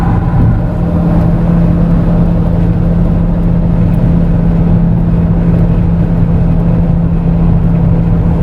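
A 2007 Acura TSX cruising at about 80 mph on the highway, giving a loud, steady drone of road and engine noise with a low hum that continues without a break.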